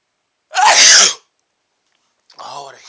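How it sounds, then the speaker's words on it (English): A man lets out one huge, explosive sneeze, loud and close, followed after a short pause by a softer breathy exhale. "Oh, what a huge, gigantic sneeze."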